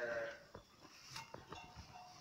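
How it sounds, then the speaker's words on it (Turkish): Sheep bleat in a muddy village farm pen, several short calls at moderate distance over a quiet background, with a goat-like, slightly nasal quality and no talking. "Bunlar da koyunlarımız"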